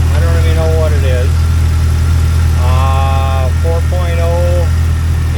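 A 1999 Jeep Cherokee with the 4.0 engine idles smoothly, a loud, steady low rumble running throughout. Someone talks over it in the foreground.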